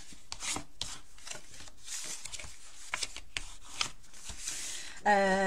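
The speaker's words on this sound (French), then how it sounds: "je vais tout simplement marquer bien tous les plis" Folds of a paper pouch for a scrapbooking craft creased firmly by hand, a series of short, close rasping rubs in an uneven rhythm, ending with a brief different noise.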